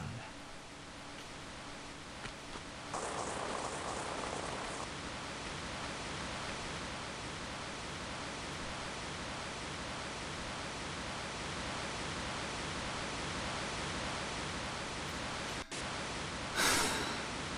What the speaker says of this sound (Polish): Szum fal.